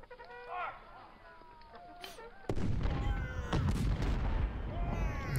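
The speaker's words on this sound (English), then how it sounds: "Canister shot is just devastating." Cannon canister shot from the Civil War strategy game Ultimate General: Civil War, a sudden loud booming blast that breaks in midway and rolls on as a dense rumble of battle noise, with quieter clucking and chatter before it.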